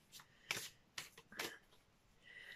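Tarot cards being shuffled in several quick riffling bursts with brief pauses between them, faint and close, with no voices.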